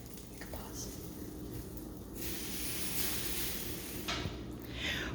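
French toast sizzles in a pan with a steady broadband hiss and crackle, loud and close throughout, with brief clatters of kitchen noise on top.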